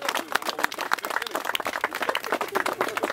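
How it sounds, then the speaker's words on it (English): A round of applause from a gathered group at an extreme sports event held in a quarry, brisk clapping at close range, fairly steady and moderately loud throughout. "Round of applause for him."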